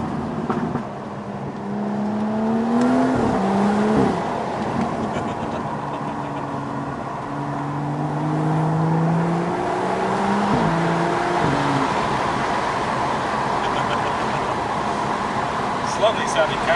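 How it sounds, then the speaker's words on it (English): A BMW M235i engine drones steadily while driving, with gear-change shifts in pitch near the start and middle, heard from inside the car under a voice speaking over it. "Lovely sounding car, right?"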